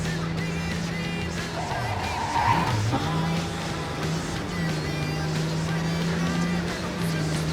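Engine drone of a car driven in the video game Cyberpunk 2077, a steady hum that dips and rises as the car turns and accelerates, with a brief squeal.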